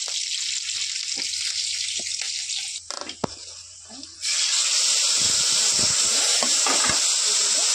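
Raw green chilies with spices sizzle in a hot pan, a steady close hiss that swells sharply and stays loud through the second half.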